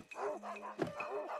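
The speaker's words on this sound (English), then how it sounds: "Oh, it's a dog." Short yips from a cartoon dog in Paper Mario: The Origami King, three or four quick bursts over a steady game music bed.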